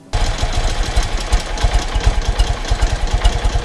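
A BMW R75/6 air-cooled boxer twin ticks over slowly and loudly at close range, its low, even thumping pulses repeating in a steady uneven-lumpy rhythm.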